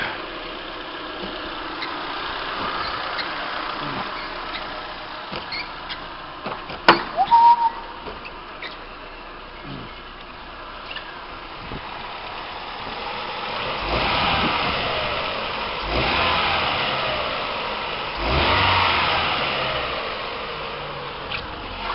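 A Ford Escort MK5 engine idles steadily at close range, then revs up in a few rising, swelling bursts before settling back to a low, even idle, with no voices over it.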